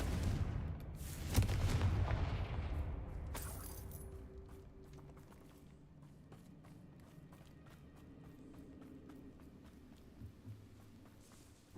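The Confringo fire spell in Hogwarts Legacy detonates in a loud, close boom early on, then rumbles and crackles away into scattered debris clatter and quieter game ambience.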